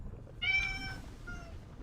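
A house cat gives one clear, close meow followed by a shorter, softer second meow over a low background hum, with no talking.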